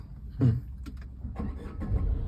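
An automatic car's engine is started with the key, giving a close, low rumbling churn with a couple of swelling surges over about two seconds, no voices.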